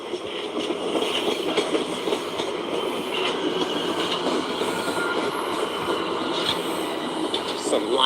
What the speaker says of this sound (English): Some Line 1 trains crossing one another, or passing.